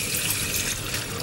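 Water runs steadily from a kitchen sink tap into a bowl, a dense continuous rushing hiss that stays close and loud throughout with no voices.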